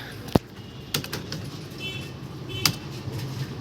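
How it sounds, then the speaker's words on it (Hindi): An electronic cash drawer at a retail shop's billing counter clacks open automatically, with a sharp thump, later clicks and a metallic rattle against a low room hum. "ये इलेक्ट्रॉनिक कैश ड्रॉयर है। जैसे कि हम लोग देखो, प्रेस किया ये ऑटोमेटिक खुल जाता है।"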